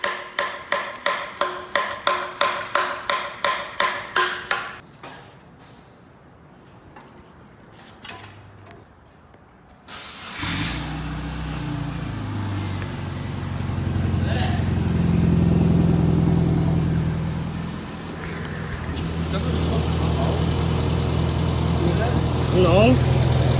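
A 2001 Subaru Outback Sport with its catalytic converter and muffler deleted: a burst of rhythmic clicking and a quiet gap give way to a loud, raw exhaust idle that swells with revving, while voices speak nearby.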